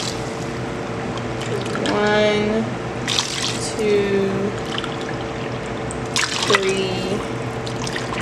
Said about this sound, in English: And 6 cups of spring water.